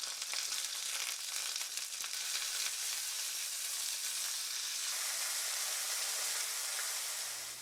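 Portobello mushrooms sizzle steadily in a hot pan, a dense continuous crackling hiss heard up close with no talking over it, slightly easing toward the end.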